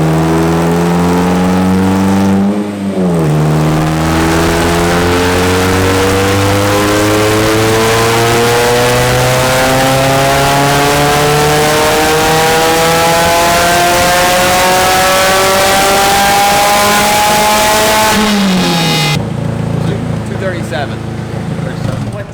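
An Ariel Atom's engine revs steadily higher on an engine dyno in a back shop, a loud rising harmonic whine that dips and climbs again near the end, with a brief pause early on.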